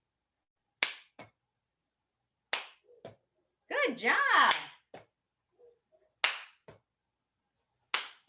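A few sharp hand claps ring out, spaced apart, with someone speaking briefly in between.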